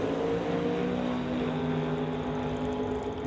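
Two late 1960s Camaro drag cars racing down the strip, a steady distant engine roar with a loud droning pitch.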